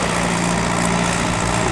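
A small tractor engine runs steadily at a microcar rally, pulling hard under load. The engine gives a loud, close, continuous drone with a low throbbing hum and no talk over it.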